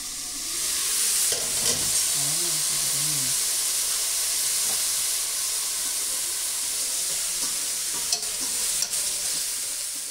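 Bottle gourd greens frying in a pan without added water, a steady close hiss and sizzle throughout, broken by a few brief stirring scrapes.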